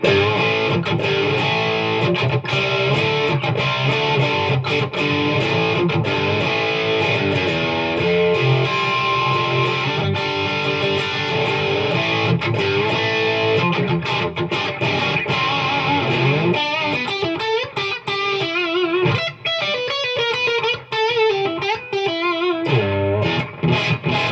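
Squier Starcaster electric guitar with Fishman Fluence pickups in passive humbucker mode, played loud and distorted through effects, with sustained chords that turn choppier and more staccato near the end, with no voice over it.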